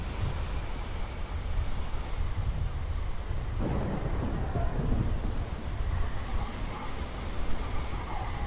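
A thunderstorm in the video game Will Follow The Light, with steady rain and rolling low thunder rumbling throughout, building in a louder surge midway and continuing close and dense to the end.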